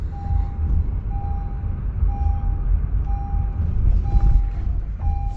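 A 2023 Honda Passport, a salvage-title SUV, driven over hard bumps: a loud, constant low road rumble heard from inside the cabin, with heavier thumps and jolts, and a steady high beeping tone repeating every second or so.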